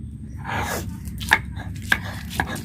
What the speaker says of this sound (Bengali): তো রসুন আর লঙ্কাটাকে আমি এখন শিলে বেটে নেব